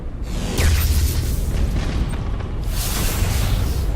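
Starship weapons in the Battlefleet Gothic Armada video game fire at an enemy vessel, a dense, loud rumble of booming blasts that rolls on without a break, with no voices.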